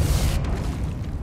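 A Depulso spell goes off in Hogwarts Legacy, a deep rumbling boom with a broad rush that cuts sharply and leaves a low lingering tail.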